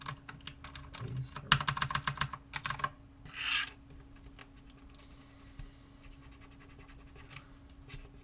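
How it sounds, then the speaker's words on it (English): A computer keyboard is being cleaned, with clusters of light clicking and rubbing on the keys at close range, then quieter scattered taps. "watching me clean my keyboard for an hour"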